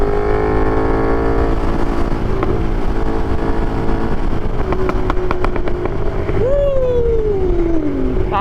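A KTM 1290 Super Duke motorcycle engine drones loudly at steady revs under throttle, then climbs in a sharp rising rev before easing off, with wind buffeting the microphone throughout.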